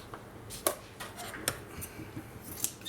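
Scissors cut through polyester batting (watine) for covering a binder, with a few soft, close snips and light clicks spaced apart against a quiet room.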